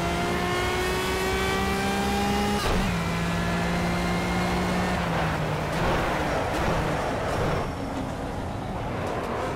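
A race car engine in the Project Cars video game at the Zolder circuit screams loud and close, its pitch climbing steadily through the gears before dropping on shifts, sustained with no talking.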